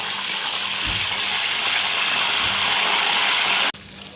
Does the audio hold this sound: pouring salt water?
yes